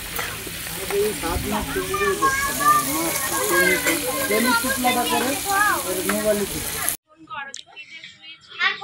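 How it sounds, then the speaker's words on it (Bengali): Mixed vegetables of bottle gourd, pumpkin, potato and pointed gourd frying in a pot at a village gathering, a loud steady sizzle under children's and adults' chatter, then a sudden cut to quieter talk. "এখন মিক্স সবজি রান্না হচ্ছে, লাউ, মিষ্টি কুমড়া, আলু আর পটল দিয়ে।"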